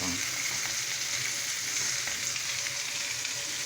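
Bell pepper frying in a hot pan, giving a steady, dense sizzle that runs unbroken throughout, close and moderately loud with no talking.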